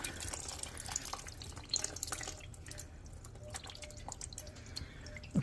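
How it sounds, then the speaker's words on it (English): Engine coolant from an Infiniti M45 with a VK45DE V8 draining out and dripping onto the sway bar, a steady patter of close drips and trickling liquid under faint background hum. "There's all the coolant coming out. It's hitting this sway bar right here,"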